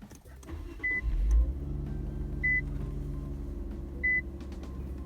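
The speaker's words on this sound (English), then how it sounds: "let's turn on the car." A car turned on after a Pedal Commander install, heard from inside: the engine catches with a low rumble and settles into a steady idle, with three short chime beeps spaced out over it.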